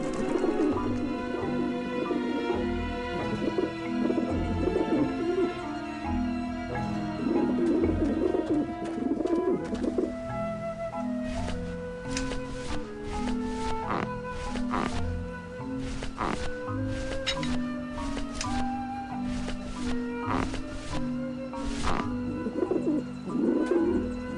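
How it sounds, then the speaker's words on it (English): Pigeons coo steadily around a dish vent in the video game Grim Fandango Remastered, their calls blending with a continuous tonal musical backdrop throughout, with no talking. "pigeons obviously like this dish vent."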